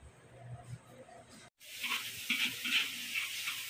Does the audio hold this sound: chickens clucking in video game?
no